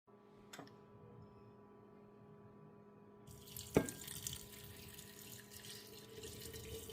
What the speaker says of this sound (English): let's go ahead and get the water ready so we can go ahead and pour it over top of the cabbage